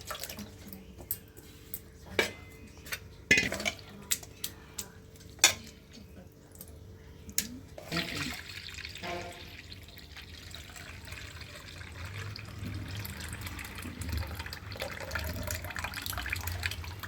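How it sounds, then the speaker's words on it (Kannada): Water is added to tamarind and tomato while the juice is squeezed out by hand in a kitchen, with sharp clinks and drips early on, then a continuous close pouring and sloshing of liquid. "ಇದು ಮತ್ತೆ ಇನ್ನೊಂದ್ಸಲ ನೋಡಿ ನೀರು ಹಾಕ್ಕೊಂಡು ರಸ ತಗೊತಾ ಇದ್ದೀನಿ"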